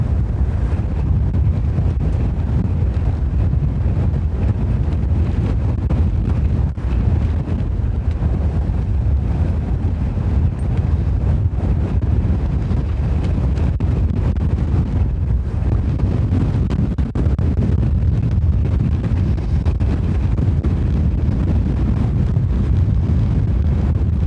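Strong wind gusts at Dublin Airport, a steady loud rushing roar battering the microphone for the whole stretch, with no clear engine or voices standing out.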